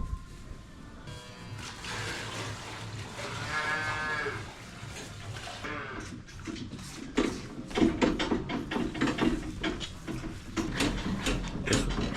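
Calves on a farm moo loudly at feeding time, several overlapping calls close by, with shuffling and clanking in the background.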